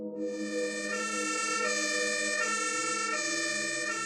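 An emergency truck siren sounds continuously, a loud rich wailing tone starting abruptly and holding steady with slight pitch shifts, alone without voices.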